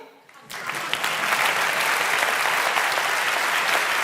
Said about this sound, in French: je vous demande d'applaudir Marc Zinga.